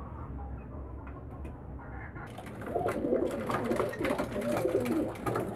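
Homing pigeons, young birds kept for sale in Damietta, coo in a low, continuous murmur from a flock close by, growing fuller and busier partway through with overlapping soft calls.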